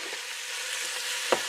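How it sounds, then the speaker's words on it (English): Venison sizzles loudly as it sears in hot oil, a steady crackling hiss with a brief stir or clatter near the end. "Should hear a good sizzle when you go to do this."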